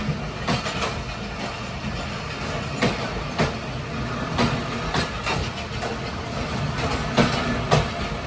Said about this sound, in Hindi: सामने जो ट्रेन है ये कराची से कल चली थी दोपहर को और इस ट्रेन की मंजिल रावलपिंडी है